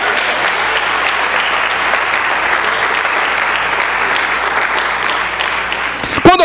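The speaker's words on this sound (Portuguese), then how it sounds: "E dê as palmas para Ele." A large crowd at a Christian worship program claps steadily and loudly throughout, a dense continuous wash of applause that stays even until a voice cuts in at the end.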